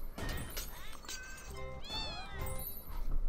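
Repeated meowing from the cat gun weapon in the space shooter game Fowl Space, a run of high, gliding cat meows in close succession over a busy game soundscape of thumps and background music.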